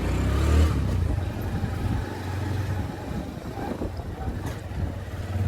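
A scooter being ridden along a village road gives a steady low engine drone with road and wind rumble throughout, close and continuous.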